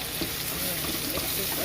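Shrimp and vegetables sizzle in a frying pan for keto shrimp veggie pasta. A steady, close frying hiss continues without a break.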